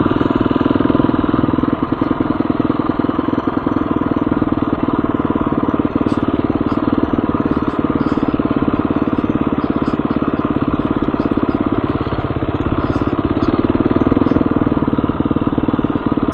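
A motorcycle engine idles along at low speed while riding, a loud steady close throb with constant rumble throughout, and a faint voice underneath.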